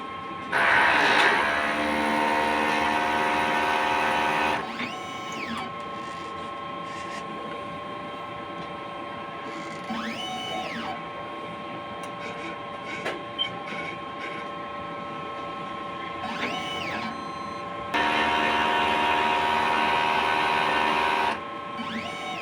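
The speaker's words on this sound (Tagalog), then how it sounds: "Ito ang ating printer." An inkjet printer in good condition runs a print job, its carriage making repeated whirring sweeps with mechanical clicks; a louder burst opens the stretch, quieter passes follow, and a loud burst returns near the end.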